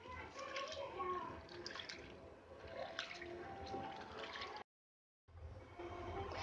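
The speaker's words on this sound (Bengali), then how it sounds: "প্রথমে মসুর ডালগুলোকে আমি এভাবে ভালো করে ধুয়ে নেব" Red lentils (masoor dal) are washed in water in a home kitchen, with soft, continuous sloshing, swishing and dripping, close and fairly quiet, broken by a brief silent gap.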